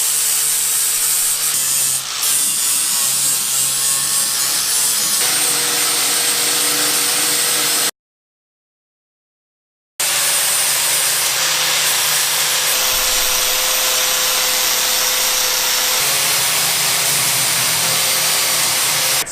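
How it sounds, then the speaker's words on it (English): Steel plates have their welds ground off with a grinder, giving a steady, loud, rough abrasive roar that fills the clip apart from a brief silent cut near the middle. "The welds are all ground off the bottom so that it just looks good."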